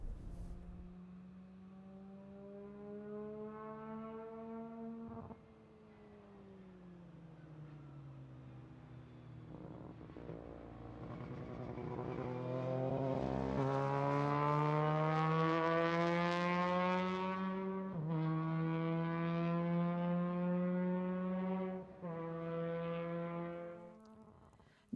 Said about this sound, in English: This is a formula car. It can go very fast.